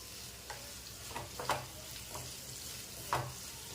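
Fasting-style potato bhaji sautés in a pan with a soft, steady sizzle, punctuated by a few scraping stirs of a spatula at irregular moments, quiet and with nobody talking.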